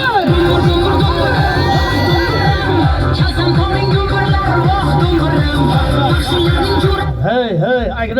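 Crowd at an outdoor New Year festival in Kokand with tightrope walkers, cheering and shouting loudly with a lively babble of voices and whoops, sustained throughout and near, with musical tones running underneath.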